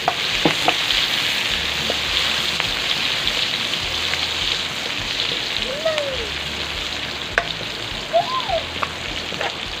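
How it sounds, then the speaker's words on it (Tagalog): Garlic and onion sauté in oil, giving a dense, even sizzle like rainfall that goes on throughout, with occasional spoon scrapes and a few faint higher sounds over it. "Manggisa na tayo ng bawang at sibuyas."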